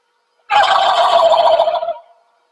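A voice imitates a wild turkey gobble call, a single loud, close, rapid warbling burst lasting about a second and a half, with silence before and after.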